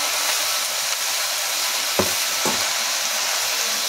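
A paste of ginger, cumin and green chili fries in a pan, giving a steady, loud sizzling hiss with two distinct scrapes of stirring near the middle.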